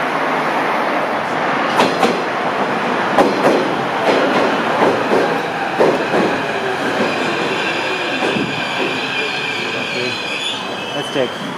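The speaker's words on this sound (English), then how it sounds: "Here's the train back to Kiev." Kiev metro train running between Hydropark and Arsenal stations, a loud, close, continuous rumble of wheels on track with rhythmic clicks and high squealing, steady throughout.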